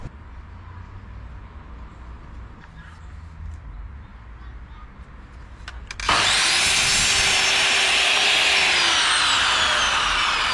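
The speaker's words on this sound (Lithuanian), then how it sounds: "dabar darom pirmą rėmą, tai einam, matuojam ir pjaunam" A power saw cuts timber for the frame of a shed between shipping containers, starting abruptly after a quieter stretch with speech, then whining loudly and steadily up close.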